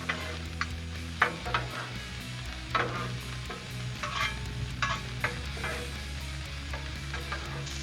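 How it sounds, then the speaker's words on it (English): Steady frying sizzle of onions cooking in butter on a Blackstone griddle, with scattered clicks and scrapes of stirring, continuous and fairly close, no talking. "Stir our onions up in that butter."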